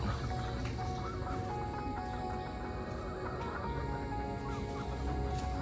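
Chickens settling to roost in a tree at dusk give soft, scattered clucks and chirps, faint and somewhat distant over a constant bed of outdoor ambience, with no talking.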